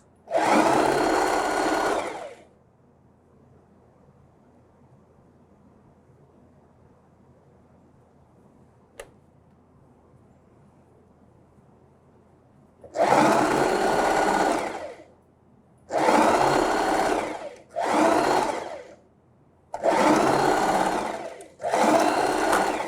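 A sewing machine stitches the hem of a dish towel, several loud bursts of steady whirring stitching, one long run at the start, then four shorter runs later separated by quiet pauses.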